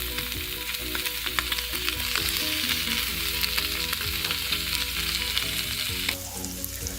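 Paneer pieces sizzle and crackle steadily in a hot pan on low gas, a dense continuous frying hiss with small pops, close and fairly loud, easing slightly near the end.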